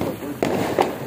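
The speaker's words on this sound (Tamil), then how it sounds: "நாங்கள் மாடி மேலே தான் வந்து நைட் பட்டாசு வெடிக்கிறோம்" Diwali firecrackers set off at night from a rooftop give two sharp, close pops over a bed of chatter and background noise.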